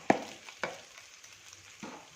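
Boiled chicken with ginger-garlic paste sautéing in oil in a kadhai, a faint steady sizzle punctuated by a few soft spatula scrapes and knocks at irregular intervals.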